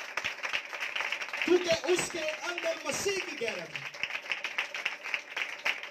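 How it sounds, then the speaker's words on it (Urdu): A church congregation breaks into scattered, crackling applause that rises and falls through the whole stretch while someone speaks over it into a microphone. "میں چاہتا ہوں یہاں پر کلیسیا میڈم غزالہ کے لیے زوردار تالیاں بجائیں"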